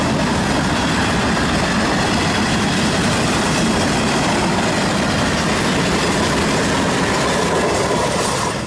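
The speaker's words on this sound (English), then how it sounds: "Train." A train rumbles past close by on the Ocean to Lake Trail, a loud continuous roar of wheels and engine filling the whole stretch without letting up.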